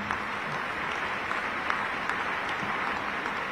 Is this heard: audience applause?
yes